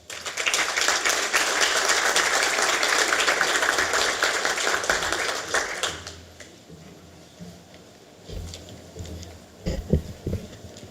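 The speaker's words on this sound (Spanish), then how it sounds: "a quien pedimos un fuerte aplauso" A conference audience in Lima breaks into loud, dense applause that holds steady for about six seconds, then dies away into scattered claps and faint room noise.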